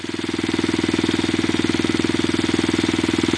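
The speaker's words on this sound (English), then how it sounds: "I'm happy that it's idling right though. It's idling mad good." A loud street-racing car engine idles steadily up close, its low rumble pulsing in a fast, even rhythm with no talking.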